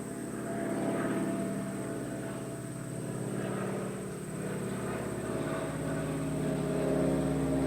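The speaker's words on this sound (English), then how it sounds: "as the airplane roars" A propeller airplane roars overhead during a quiet talk gathering, a loud sustained drone with a steady low hum and faint tonal whine, swelling and easing slightly as it passes, no speech over it.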